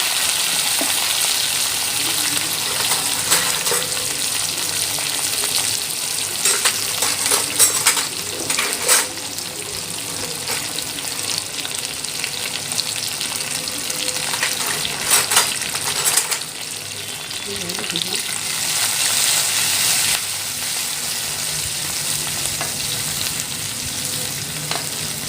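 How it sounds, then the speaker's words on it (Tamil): Onions sautéing with curry leaves and crushed unpeeled garlic in a pan, a steady loud sizzle and crackle that runs for the whole stretch, with occasional stirring scrapes and no talking. "வெங்காயம் வதங்கிடுச்சு"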